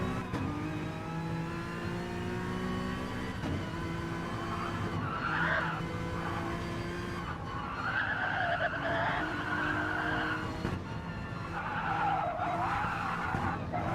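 Race car engine from the GTC-2 racing game at Dragon Trail Gardens, with a steady droning roar that rises and falls through gear changes and tire skid squeals around curves, continuous and fairly loud throughout.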